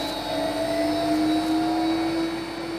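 HEPA filter test unit fan driven by a frequency converter at a constant 1,000 cubic meters per hour, a loud steady whooshing roar with tonal hums that stays even throughout.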